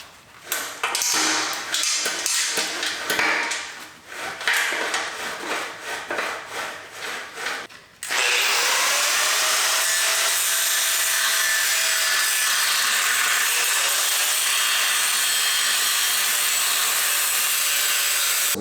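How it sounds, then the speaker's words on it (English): A cut on a Ford Ranger Raptor exhaust trombone loop, starting with rhythmic rasping strokes, then switching to a loud continuous high-pitched cutting screech that holds steady to the end, with no talking. "we got that first cut made, kind of just right in front of the factory weld"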